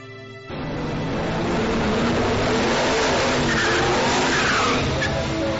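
A Chevrolet Trailblazer truck with an LS2 V8 launches at a drag strip, its engine climbing into a loud, sustained roar after a brief idle, with tire noise under the engine.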